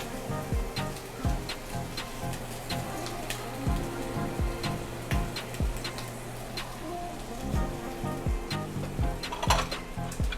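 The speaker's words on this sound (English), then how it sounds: "You fry your cabbage up in bacon grease with the sausage." Cabbage frying in bacon grease with sausage gives a steady close sizzle and crackle, with scraping and stirring clatter of the pan running through the whole stretch, no voices.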